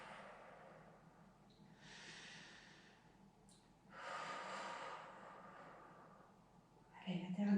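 Two long, deep breaths are drawn and released during a gentle Pilates exercise, each a soft, close, airy rush with a quiet pause between.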